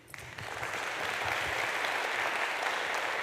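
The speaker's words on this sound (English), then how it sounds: "big applause for the first author" At a robotics conference, the audience bursts into applause that quickly swells into steady, dense clapping filling the hall.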